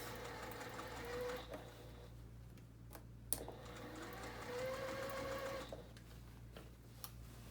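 A sewing machine stitches a seam through three layers of dress fabric, lining, main and sleeve, with faint, quiet whirring runs and small ticks between bursts.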